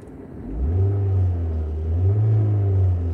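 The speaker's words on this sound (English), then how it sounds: "Do you like the revving?" A small car engine revs up loudly from idle, holds, dips slightly and revs again, a close, steady rising whine with no talking.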